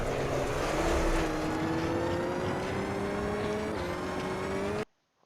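A rally car engine revs under throttle in Richard Burns Rally, a loud steady drone with rising pitch as it accelerates, a brief gear-shift dip near the end, then cutting off abruptly.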